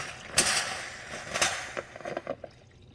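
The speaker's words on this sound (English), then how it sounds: "That's just that water hitting that heating element down inside there" Water hits the hot heating element inside a Black + Decker 12-cup coffee maker, model CM2030B, giving a few sharp hisses and pops followed by quieter scattered crackles, close and alone.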